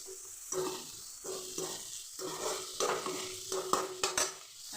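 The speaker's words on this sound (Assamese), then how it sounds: "চুজিখিনি মই শুকানে অলপ ফ্ৰাই কৰি দিছোঁ" Semolina dry-fries in a pan with a little sugar and raisins, stirred in rhythmic scraping passes over a soft sizzle, with the strokes close and clearly separated and no one talking.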